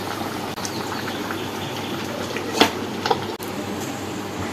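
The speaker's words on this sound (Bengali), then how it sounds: "মাংসের ঝোল ফুটতে কিন্তু শুরু করে দিয়েছে টকবক টকবক টকবক করে" A pot of meat curry bubbles on the stove with a constant dense boiling rush and a couple of louder bubble pops near the end, steady and close, with no voices.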